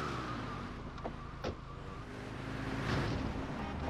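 A car in the top-down video game GTA 2 drives with a steady engine hum and road rumble throughout, plus a few brief clicks and a swelling whoosh near the end, with no one talking.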